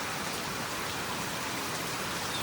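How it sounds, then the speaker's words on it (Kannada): Heavy evening rain pours down steadily in a village, a dense, continuous hiss that fills the whole short stretch with no voices. "ಮಳೆ ಅಂತ ಸಿಕ್ಕಾಪಟ್ಟೆ ಬೀಳಾಕತ್ತದ್ರಿ."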